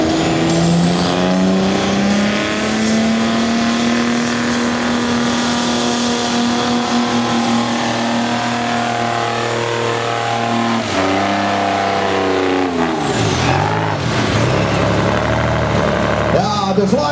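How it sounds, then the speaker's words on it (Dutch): A Dodge W200 truck with a Detroit engine at a truck pulling event roars loudly under heavy sustained load, its tone slowly rising and then falling off as it eases, while an announcer talks over it. "Met de auto, de Dodge W200, met daarin gemonteerd een Detroit."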